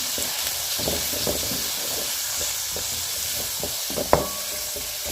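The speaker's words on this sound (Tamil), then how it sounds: "இப்போ இதில் வெங்காயத்தை சேர்த்துக்கிறோம்" Onions sautéing in a pan for chicken curry make a constant hissing sizzle, close and even, with faint stirring taps and one sharp clink of a utensil near the end.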